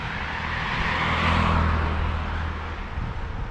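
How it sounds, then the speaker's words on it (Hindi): Cars on a busy main road in Birmingham on an evening of rain swell into a close, whooshing pass and then fade. The hiss of tyres on the wet road sits over a low rumble. "यहाँ पे obviously ज़रा ट्रैफिक ज़्यादा है"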